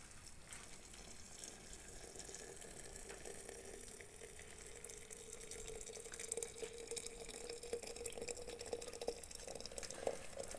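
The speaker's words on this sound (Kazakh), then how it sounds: "Енді банкімізге қайнап тұрған суды құямыз." Boiling water pours into a glass jar holding cherries and sugar for compote, making a faint, continuous splashing and gurgling stream over about ten seconds, with no voices.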